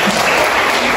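A classroom full of students bursts into sustained applause for a classmate who answered correctly, a dense, loud wash of clapping throughout the short moment, with no voices standing out.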